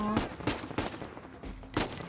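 Video game gunfire in Uncharted 4, a few sharp shots in quick succession with a faint tonal in-game sound, at moderate level.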